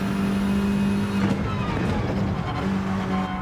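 Front-wheel-drive Mazda race car in Gran Turismo 7, a steady mid-pitched engine note holding then dipping briefly before resuming, moderately loud with no talk.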